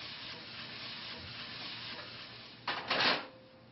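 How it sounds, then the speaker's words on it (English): Chicken pieces browning in a pan for adobo give a steady broadband sizzle throughout, swelling into a louder burst of frying hiss near the end, with no voices. "While you're browning the chicken in the pan"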